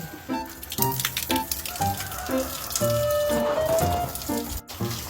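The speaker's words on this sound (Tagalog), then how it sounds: "Mickey, umilag ka, baka matamaan ka ng tubig." Rhythmic bursts of spraying water, close and fairly loud, with a steady hiss and a faint tonal whine in the middle.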